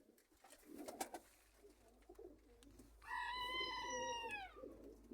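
Pigeons coo in a loft with soft, throaty burbling calls, one drawn-out coo rising clearly near the end against faint background rustling.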